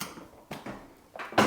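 The front panel of a washing machine being lifted off, a few short knocks and scraping clunks of sheet metal, close and brief, with the last bump the loudest.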